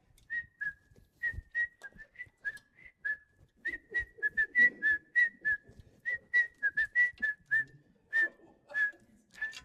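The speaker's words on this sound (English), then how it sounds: "I'm going to give you some twerking, whistling music." Someone whistles a bouncy, rhythmic tune of many short, clear, fairly quiet notes, with faint background noise and no talk.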